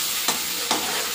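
Tomato dropped into hot oil with white cumin seeds gives a steady, loud sizzle, with two sharp hissing bursts flaring briefly over the continuous frying noise.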